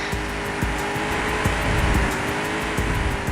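Cars skid and lose control in the retro racing video game POD Gold. Engine drone runs steadily with repeated sharp scraping and screeching bursts, loud and continuous with no talk.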